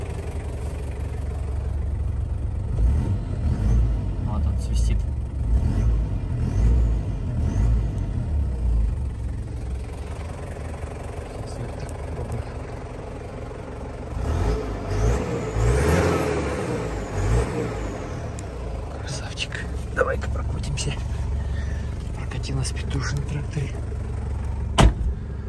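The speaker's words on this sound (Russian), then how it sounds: "Посвисти мотором." A 1996 Toyota Land Cruiser Prado TZ turbo diesel with a five-speed manual and 4WD, its engine running steadily with a rise in revs midway, close and continuous while someone talks over it.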